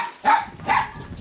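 A dog at a village house in Moldova gives two close, sharp barks about half a second apart, with quiet between them.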